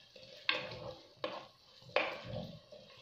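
Chicken breast meatball stuffing for a tagine, squished and turned by hand in a bowl: three soft, wet squelching strokes about a second apart, close and fairly quiet.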